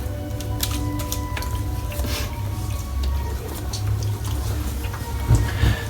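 Synthetic 26mm Mervyn Cadman brush working Oleo Soapworks shaving soap into lather, giving a continuous wet squishing and clicking texture close up, with slight rises in intensity near the end.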